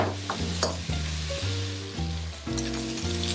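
Pork belly stir-frying in a wok makes a steady, crackling sizzle with occasional stirring, heard under a melodic background of stepped tones.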